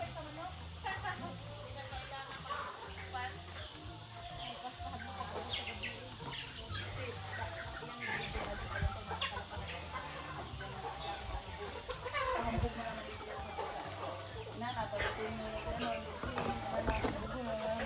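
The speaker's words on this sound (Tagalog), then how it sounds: "Kasi dagang manok. Dagang manok." Chickens cluck and chatter continuously across a busy, large farmyard, with scattered calls near and far and a low steady hum underneath.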